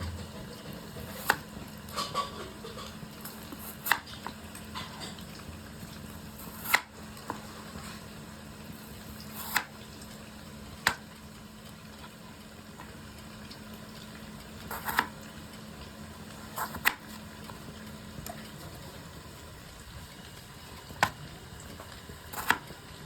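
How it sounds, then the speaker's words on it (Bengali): Potatoes being cut with a knife into paneer-sized pieces: scattered crisp chopping taps at irregular intervals, fairly close, over a steady low hum with no voices. "আলুটাকেও ঠিক পনেরের সাইজ করে কেটে নেব"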